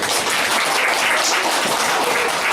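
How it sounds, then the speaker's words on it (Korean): A room full of people applauding loudly, dense clapping holding steady throughout with no pauses. "큰 박수 부탁드리고요"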